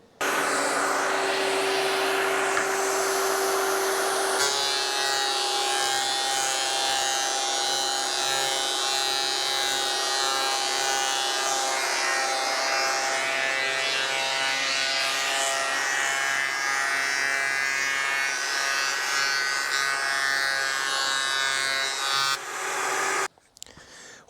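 A Vevor 12.5-inch thickness planer runs loudly nearby, a steady high whine that shifts in tone as the board feeds through, then cuts off abruptly near the end.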